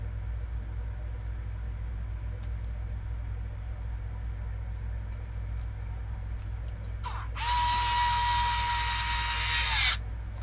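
A power tool drives 2.5mm bolts into plastic while fitting a light kit to a TRX4 G500 RC truck, giving one loud, whirring burst of about three seconds over a quiet, humming room.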